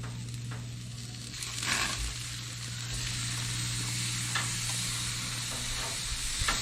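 Fish sizzles in a pan while a spoon bastes it with hickory barbecue sauce and steak sauce, giving a steady hiss with a few soft scraping touches and no voices.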